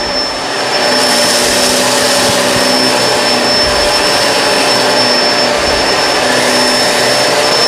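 A Kenmore Crossover Ultra vacuum cleaner runs steadily up close, its loud, constant whine and airflow rushing without a break.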